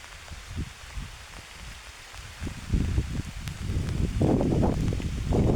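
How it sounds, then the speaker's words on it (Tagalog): Rain falling outdoors along the Jaro-Ormoc road, soft at first then growing louder, with gusty rustling and wind buffeting the microphone. "umuulan."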